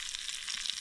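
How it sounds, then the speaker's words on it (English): Steady, close sizzling and crackling of fresh supplejack shoots frying in a pan while winter camping outdoors, a dense hiss with no voices. "they're just frying in the pan right now"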